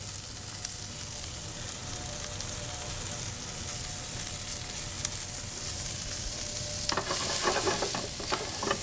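Shallots sizzle with Brussels sprouts in a hot pan, a steady close frying hiss that picks up with stirring and scraping toward the end, with no talk.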